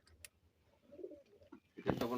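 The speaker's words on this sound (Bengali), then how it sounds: "দেখতে পাচ্ছেন কবুতর সিলিং চলছে" Pigeons coo faintly in the background while they are being tagged at a pigeon racing event, the soft calls rising briefly amid light handling noise and a burst of louder activity near the end.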